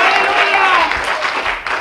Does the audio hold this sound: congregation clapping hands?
yes